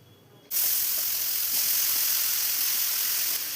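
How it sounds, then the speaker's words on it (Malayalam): Mushrooms dropped into hot oil in a pan burst into a loud, sustained sizzle that starts abruptly and then holds as an even hiss, close up and without talk. "ഇതിലോട്ട് ഇനി മഷ്റൂം ചേർത്തിട്ടൊന്ന് ഫ്രൈ ചെയ്തെടുക്കണം."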